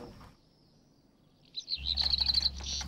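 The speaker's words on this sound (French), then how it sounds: "Ce ne sont pas des hirondelles, mais des rouges-queues noires." Black redstarts in the countryside giving a quick run of high, bright chirps, a rapid twittering burst near the end after a quiet start, close and clear with no voices.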